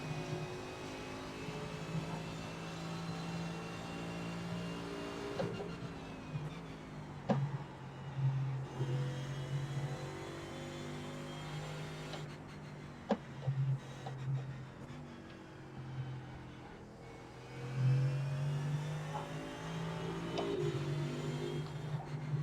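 GT race cars in the iRacing sim at Road Atlanta, one engine droning steadily close up, its pitch rising and falling through upshifts and braking, with a few sharp clicks and bumps over a constant background hum.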